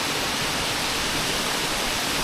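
Moss Force waterfall in the Lake District gives a loud, unbroken rushing roar of falling water, steady throughout, with no voices.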